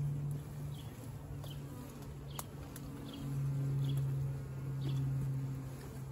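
A swarm of honey bees hums and buzzes close by in a steady drone that swells louder around the middle and again near the end, with faint bird chirps in the background.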